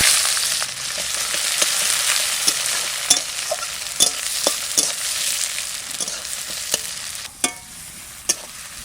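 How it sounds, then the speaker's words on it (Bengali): Onions frying in hot mustard oil with bay leaf and cumin, a loud steady sizzle broken by repeated clinks and scrapes of a spoon stirring the pan, close and without speech. "সরষের তেল, তেজপাতা, জিরে, এবার পেঁয়াজ দিয়ে দেবো।"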